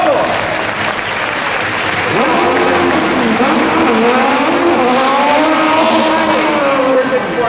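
Loud crowd applause fills the Lights, Motors, Action! Extreme Stunt Show at Disney's Hollywood Studios, mixed with the rising and falling whine of a racing RC car and tire squeal.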